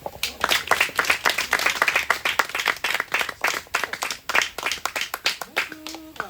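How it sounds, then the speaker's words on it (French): A youth camp audience claps in dense, rapid rhythm that swells and holds, fairly close, with a voice surfacing briefly near the end. "On les applaudit"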